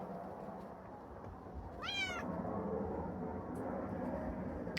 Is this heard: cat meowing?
yes